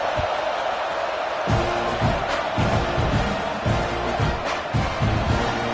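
Stadium crowd noise in the College Football 26 video game, a steady broad roar with rhythmic low thumps and swells. It sits under ongoing play-by-play commentary throughout.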